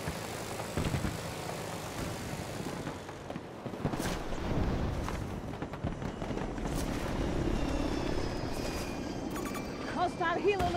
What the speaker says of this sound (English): Hostile helo located. 70 meters away.